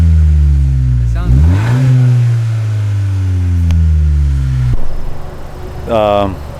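Loud nearby revving from a Honda Si fitted with a Yonaka Motorsports exhaust: one rising blip settles into a sustained drone that cuts off abruptly, followed by a shorter, sharper rev.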